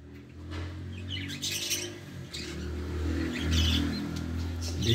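Parakeet chicks in an aviary nest box give repeated high, thin chirps and squawks in short bursts over a steady low hum, close and fairly quiet.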